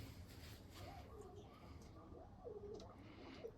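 Soft, repeated cooing from newly bought pigeons, with rising and falling notes over a steady low background rumble, fairly close.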